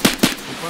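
Two sharp SKS rifle shots in the Escape from Tarkov video game, a quick pair of cracks close together with a brief tail after each, alone without talk.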